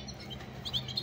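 A canary chirps in short, bright, high tweets, close and clear over a steady low background hum, with no voices.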